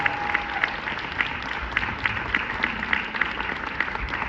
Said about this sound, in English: Another round of applause for the cast of the beginning of the boycott.